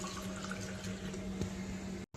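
Curd mixed with water, stirred and churned in a vessel to make a hydrating drink, gives a steady, low liquid swishing that goes on continuously and fairly softly, with no talk.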